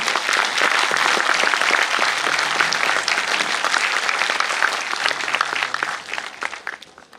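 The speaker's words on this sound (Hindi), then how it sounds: "एक बार खुले दिल से हाथ खोल करके बाबा नानक दास जी महाराज का स्वागत उनके श्री चरणों में ताली बजाना।" Loud, steady audience clapping welcoming a guest at a public gathering, many hands applauding together in a dense continuous wash that tapers slightly at the end.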